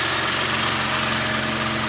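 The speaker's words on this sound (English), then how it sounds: "that lovely 3 litre V6" A Porsche Macan GTS with a 3-litre twin-turbo V6 idles close by, a smooth steady low hum with faint mechanical ticking, no revving and no talk.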